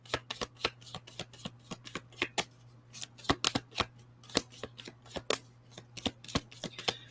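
Moonology oracle cards being shuffled, a rapid run of crisp riffling snaps with steady rhythm, close and fairly loud over a faint low hum.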